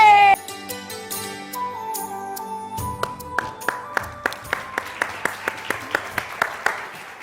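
A studio audience on a Ramzan special TV transmission claps in a steady rhythmic beat, the sharp evenly spaced claps rising over music and lingering tones.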